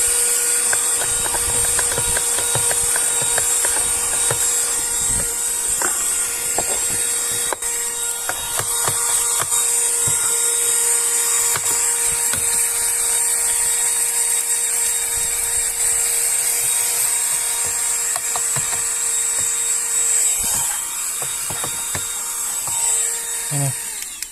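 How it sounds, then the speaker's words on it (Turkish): A small, powerful cordless rechargeable car vacuum cleaner runs continuously inside a car with a loud, high, steady motor whine and scattered rattling clicks as it picks up debris; no talking. "Şimdi arkadaşlar süpürgemizi çalıştırdık."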